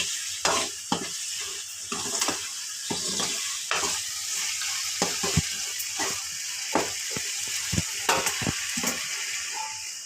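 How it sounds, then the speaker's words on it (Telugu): Broad bean curry stirred in a cooking pan, with a steady sizzle of frying beneath repeated scraping and clinking strokes of a spoon against the pan, close and fairly loud throughout with no talking. "చిక్కుడుకాయ పట్టేలా ఒకసారి అయితే కలిపేస్తా"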